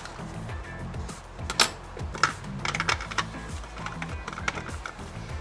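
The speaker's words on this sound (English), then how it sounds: "get in there at the points with your bone folder and seal that in" A bone folder presses and seals the points of a paper star-shaped box, giving soft, uneven scraping and tapping sounds close up, with several light clicks and rubs in a quiet room.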